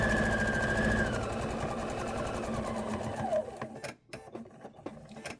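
A sewing machine quilts a placemat in a steady close whir for about three seconds, then slows into uneven start-stop bursts as the fabric is turned.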